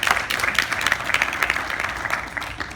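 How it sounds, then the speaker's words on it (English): A crowd at a political campaign event in Farmington Hills, Michigan claps together, a dense and lively burst of applause that holds steady throughout. "yeah, we can clap for education"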